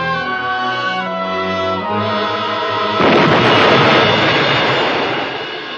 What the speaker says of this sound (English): There's your evidence of a bomb, Mr. Pinkerton